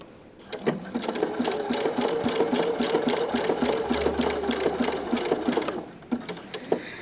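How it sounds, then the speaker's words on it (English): A sewing machine runs zigzag stitching around a lace insertion corner for heirloom sewing, a steady fast mechanical chatter close by for several seconds, starting and stopping with a few isolated needle thumps. "I'm back at my machine, and now I have to kind of just turn the corner with my zigzag stitching"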